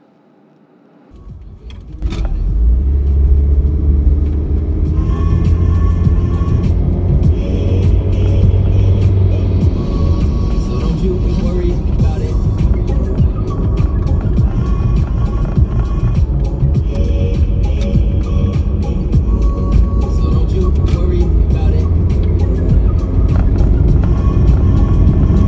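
A car driving along an open road through New Zealand's South Island, its steady engine drone and low road rumble loud and continuous from the start, with a brief quieter moment before the cabin noise rises.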